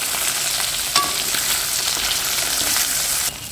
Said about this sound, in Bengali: এই যে এখন মাছ ভাজছি আমি, গরম গরম তেলে ছেড়ে দিয়েছি মাছটাকে